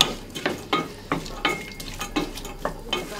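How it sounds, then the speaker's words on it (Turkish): Onions and peppers sizzle in a hot pan while a spoon stirs them in regular scraping strokes, the frying hiss rising with each stir. "Soğan ve biberler hafif böyle rengi değişene kadar kavuruyorum."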